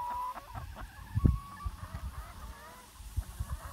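Chickens cluck in short, scattered bursts against a quiet outdoor background, with one louder squawk partway through.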